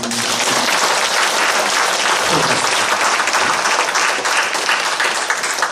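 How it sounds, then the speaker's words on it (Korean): A church congregation applauds steadily for several seconds during a Sunday service, dense and loud clapping filling the space, with a brief voice surfacing under it near the start. "박수 한번"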